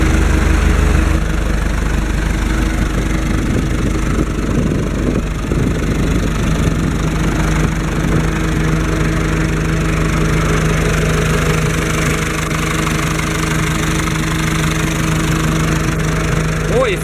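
A Fendt Farmer 106 S tractor's four-cylinder engine idles close by, a loud, steady diesel rumble with a regular knocking beat, holding even from start to finish.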